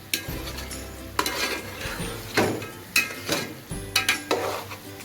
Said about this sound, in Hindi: अब ये देखिए ये मैं भून रही हूँ।